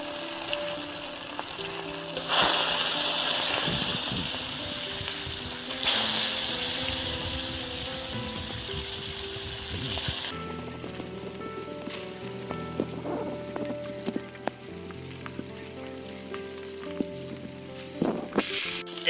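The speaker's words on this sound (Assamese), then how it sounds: "মাছখিনি ভাজি লওঁ।" Pieces of snakehead fish frying in hot oil in a kadai give a steady crackling sizzle throughout, broken by a few louder spatters and light metallic scrapes of turning.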